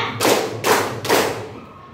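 A ninth-grade science class claps together in a clapping game, three sharp, evenly spaced group claps in quick succession, each a short burst of many hands, before the room goes quiet.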